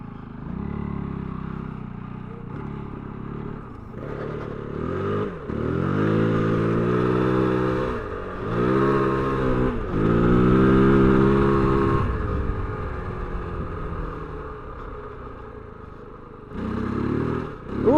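A Kove 450 Rally motorcycle rides through soft sand, its single-cylinder engine close and loud. It revs up and down in repeated surges with gear changes and throttle blips and never falls silent.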